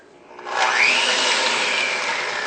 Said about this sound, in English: I'll grab my mixer.